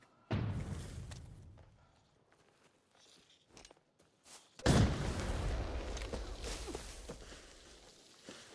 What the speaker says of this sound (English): Well, that's a good nade